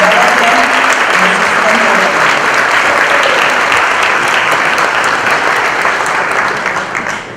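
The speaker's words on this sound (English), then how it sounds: "So please stand so we can recognize you and give you a round of applause." Sustained applause from a large audience at a school promotion ceremony, honoring graduates' families; dense, steady clapping fills the hall and tapers slightly at the end.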